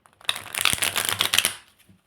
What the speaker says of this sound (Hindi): Just give me one moment, मैं शफल कर लूँ.